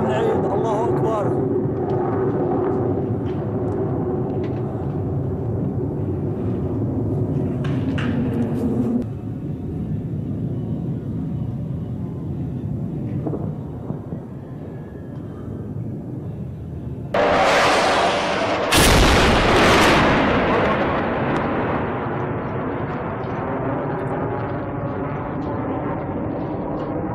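Bombardment of a Syrian town by a MiG warplane on a holiday morning: a continuous loud aircraft roar rumbles throughout, then a sudden broadband blast near the middle-to-late section, followed by a second blast and a decaying rumble, with voices mixed in.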